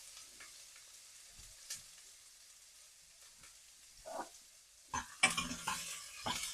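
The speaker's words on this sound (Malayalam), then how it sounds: "നല്ലപോലെ വഴറ്റുക" Mustard seeds, garlic, ginger, green chili and shallots sautéing in a pan, a soft sizzle under quiet scraping and stirring that turns into louder crackles and clatter near the end.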